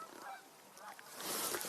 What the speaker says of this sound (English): And we're hearing Canada geese